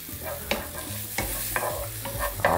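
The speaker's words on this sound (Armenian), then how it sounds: "մի կողմից կարմրել է, մյուս կողմից թող կարմրի և կհանենք տապակից" Mushrooms fry in a pan with a close, constant sizzle, punctuated by several stirring scrapes and clinks against the pan, with no voices.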